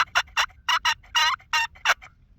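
A slate turkey call with a plunger-style striker, scratched out in a quick series of about eight raspy, yelping clucks with short gaps, close and alone.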